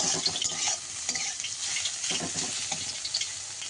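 Chopped garlic, onion and green chillies fry in hot oil while being stirred, giving a steady close sizzle with scraping spatula strokes throughout, no voices.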